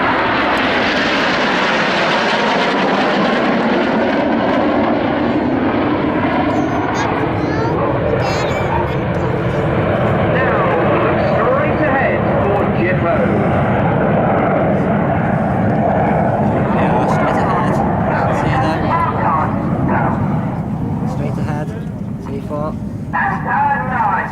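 Aerobatic display jets roar through manoeuvres at a seaside air show, a loud, sustained engine rush that swells and shifts pitch for the whole stretch, with a commentator talking over it.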